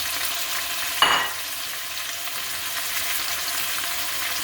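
Baby carrots tumble into a pot of beef kaldereta stew, giving one brief splash-and-clatter burst over a steady background sizzle that continues evenly afterward.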